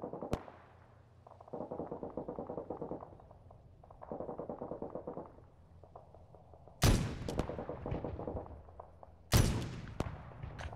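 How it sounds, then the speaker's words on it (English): Explosions and missile blasts in a combat flight video game: two sharp, loud booms that ring out and decay, after quieter stretches of engine-like rumble. "I'm dealing with some missiles right now."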